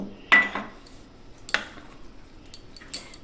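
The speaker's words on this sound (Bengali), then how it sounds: "এটাকে আমি এখন অল্প অল্প জল দিয়ে একে আমি অল্প অল্প জল দিয়ে ভালো করে মেখে নেব" Dhokla batter is mixed with water in a bowl, giving a few light clinks and scrapes of a utensil against the bowl at spaced intervals, fairly quiet and with no talking.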